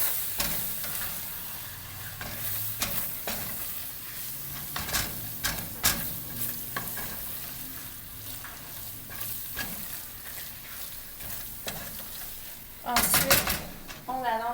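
Flour stirred into onions in a pot for onion soup, a steady sizzle broken by repeated scraping clicks of a utensil against the pot, with a louder clatter near the end and a voice speaking.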